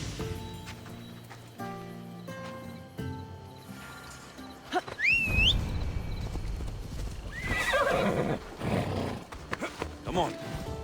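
A horse in Assassin's Creed Odyssey clops along rhythmically, then lets out two loud, shrill whinnies near midway and again later, close up over soft background music.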